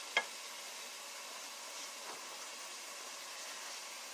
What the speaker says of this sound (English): I am going to melt the butter in there